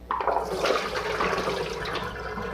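Salt water draining off fingerling carrots in a steady, rushing pour that begins suddenly and holds at an even level throughout, close by with no talking.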